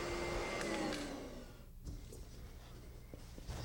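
Vacuum cleaner running over a freshly laid wooden floor before crack and nail-hole filling, a steady loud motor drone that dips briefly midway then continues with light knocks.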